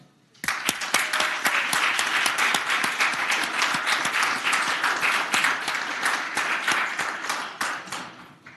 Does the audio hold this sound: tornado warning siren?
no